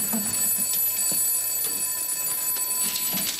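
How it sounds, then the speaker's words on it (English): A telephone bell rings in a steady, continuous trill of high metallic tones, fairly close and alone with no talk over it. "I heard the phone ringing"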